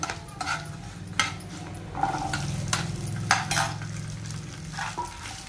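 Gooseberry pieces and curry leaves fry in a hot pan for an amla chutney, with a steady low sizzle and repeated scraping, clinking stirs of a utensil against the metal, close and moderately loud, with no talking.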